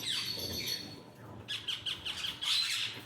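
Ringneck parrots squawk and call in short harsh bursts, a violet turquoise split male and a blue female kept as a pair at a pet market in Islamabad.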